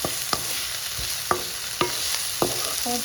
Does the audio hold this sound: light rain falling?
no